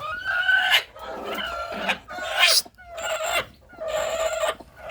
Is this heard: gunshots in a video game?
no